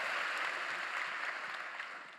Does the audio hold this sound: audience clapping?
yes